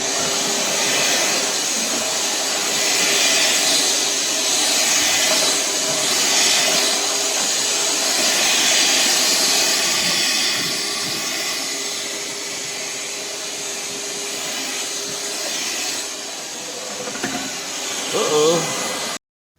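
A Ridgid R860902B wet/dry shop vacuum runs continuously with a loud, steady high-pitched roar for nearly twenty seconds, with faint handling knocks of the hose toward the end.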